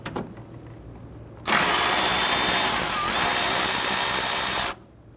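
A power tool whirs continuously for about three seconds while loosening a ground bolt on a 2011-2017 Nissan Quest 3.5L V6, loud and close, with quieter workshop ambience before and after.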